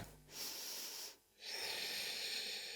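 Deep breathing during a morning yoga session, two long airy breaths separated by a short pause, close and clear with no talk.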